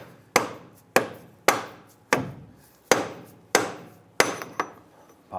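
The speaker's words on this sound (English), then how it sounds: "Now I'm going to go ahead and use my dead blow hammer here." A dead blow hammer lands seven or eight heavy, dull blows on metal at a steady pace while removing a CV joint on a 2002-2008 Dodge Ram 1500, each sharp thud decaying quickly, close by with no talking.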